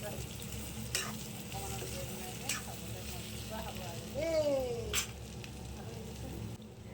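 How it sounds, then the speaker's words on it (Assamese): Pork fries in a pan with salt, turmeric, ginger, garlic and onion, giving a steady close sizzle broken by a few stirring scrapes and clanks. "নিমখ হালধি আদা ৰচুন পিঁয়াজ এনেকৈ দি ভাজি আছোঁ"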